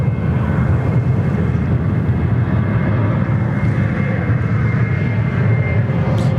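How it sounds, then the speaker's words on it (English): A Garuda jet airliner departing runway 34 left at Sydney Airport gives a loud, sustained low roar of jet engines that stays steady throughout, with no voices. "Garuda's here. Just about to depart there on runway 34 left."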